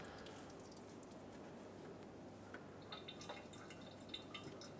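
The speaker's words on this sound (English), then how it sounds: "Make sure you catch all that oil in your drain pan." Used engine oil from a 2008-2010 Ford F-250 Super Duty 5.4L V8 dripping and trickling into a drain pan, faint and close, with scattered soft drips over a low steady background.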